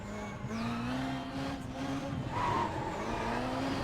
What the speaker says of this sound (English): Finally get a handbrake turn.